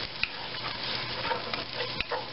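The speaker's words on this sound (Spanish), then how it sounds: "Me gusta dorar toda la verdurita para que así vaya agarrando el sabor." Vegetables brown in a hot pan, giving a steady close sizzle with a few sharp clicks of a spoon stirring against the metal, ahead of fettuccine being made.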